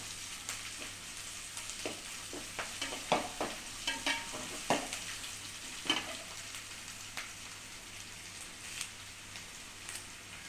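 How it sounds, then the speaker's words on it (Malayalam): Curry leaves frying in hot oil for an ivy gourd pickle, a steady crackling sizzle with scattered louder pops and spatters, close and alone with no talking. "കരിവേപ്പിൻ്റെ ഇല ഏകദേശം മൂത്ത് വരാൻ തുടങ്ങിക്കണം"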